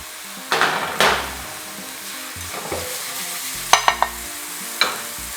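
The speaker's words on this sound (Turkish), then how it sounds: "tavamızın içerisine ayçiçek yağımızı ilave ediyoruz. Sonra vakit kaybetmeden doğranmış soğanlarımızı ekliyoruz" Chopped onions sizzle steadily in sunflower oil in a hot pan, with a few sharp scrapes and clinks of a utensil stirring them.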